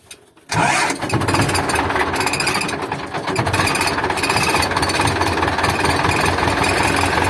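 An Ursus C360 tractor's diesel engine cranks and fires up, then settles into a loud, rough, steady rattling run close to the listener, with no talking over it.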